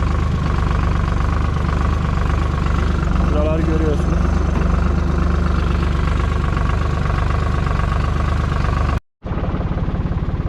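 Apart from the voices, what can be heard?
tractor engine idling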